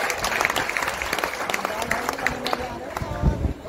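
A crowd at a pigeon flying association meeting claps in short encouragement, busy and uneven, with voices mixed in over the applause.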